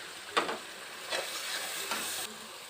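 Ground spices with turmeric, chilli powder, salt and coriander powder being stir-fried in a pan: a soft sizzle swelling in three separate stirring bursts, quiet and without talk.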